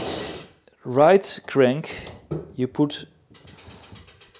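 A hand tool works a pedal loose from the crank of an Alpha Series velomobile, giving short ratcheting, grinding bursts at the start and end around a few spoken words.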